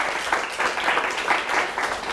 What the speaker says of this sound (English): a nice round of applause for both teams